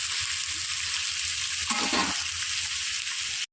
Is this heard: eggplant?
yes